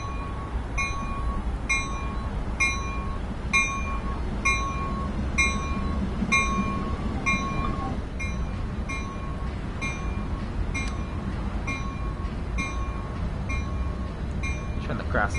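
A train in Train Sim World 2020 rumbles steadily as it comes to a stop, with a continuous low rolling drone and regular faint metallic clinks repeating throughout, loud and unbroken.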